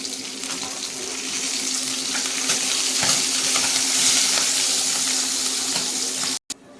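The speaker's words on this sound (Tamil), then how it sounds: "ஒரு சைடு நல்லா வெந்துட்டு இப்போ இன்னொரு சைடு திருப்பி விட்டுக்குவோம்" Sardines frying in a pan for a spiced Tamil-style fish fry give a steady, loud, close sizzle with a broad hiss throughout, cut off abruptly near the end.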